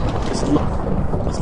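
Thunder and lightning in a survival video game make a loud, continuous rumbling roar over steady rain, lasting the whole moment without a break.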